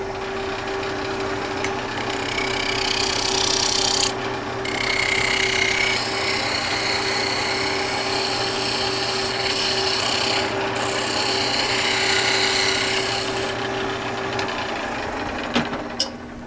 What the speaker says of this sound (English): Okay, back to the roughing gouge.